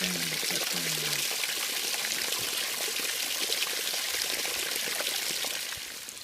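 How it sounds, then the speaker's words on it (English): Water leaking from a crack in a concrete tank makes a steady rushing, hissing stream that eases slightly at the end, with a voice heard briefly at the start. "the water is slowly being shut down and the leak is diminishing"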